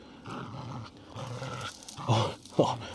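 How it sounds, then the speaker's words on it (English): A dog inside a camper van growls low and pants in steady breaths, then gives a few sharper vocal bursts toward the end. It is close and moderately loud. "out on adventures with my mental dog, as you could probably hear in the background like this"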